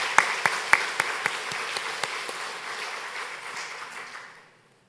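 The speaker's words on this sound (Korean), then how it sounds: "여러분 착하다고 믿으신다면 큰 격려의 박수 한번 보내주시기 바랍니다." A church congregation claps together, starting with a few sharp, distinct claps and settling into even applause that thins and dies away near the end.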